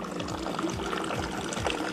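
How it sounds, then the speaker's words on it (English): Moroccan tea poured from a height into a glass: a steady close liquid stream splashing continuously, with a faint rhythmic low thumping beneath. "there is an art form as well to pour in Moroccan tea"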